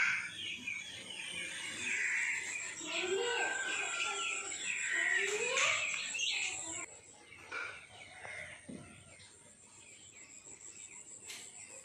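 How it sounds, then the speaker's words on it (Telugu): Morning birdsong outside a house, chirps and calls from birds with a rooster-like crow and clucking fowl in the mix, moderately faint and fading toward the end, with a steady high insect-like hum behind. "ఆ బర్డ్ సౌండ్ అలాగా చాలా చక్కగా వస్తుంది."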